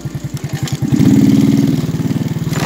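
A small semiautomatic motorcycle engine putters close by in rapid, even pulses. It climbs in revs, then the note steps down as a gear is shifted, and it keeps chugging along.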